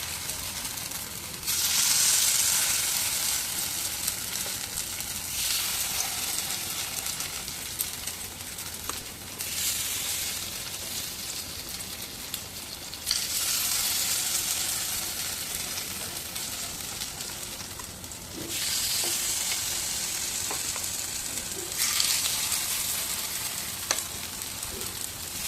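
Onion batter fritters sizzle and crackle steadily in hot oil, a loud continuous frying hiss that swells in bursts as fresh spoonfuls of batter drop into the pan, with no voices.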